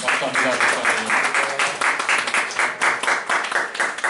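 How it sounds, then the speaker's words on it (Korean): Thankful applause for a visiting pastor at a university Christian studies chapel service, a room of people clapping in a lively, pulsing rhythm, fairly loud and close, with a voice briefly heard over it. "우리에게 생명이 되고 앞으로 인생의 지표가 되는 귀중한 말씀 주신 우리 김기현 목사님에게 다시 한번 감사의 박수를 드립니다"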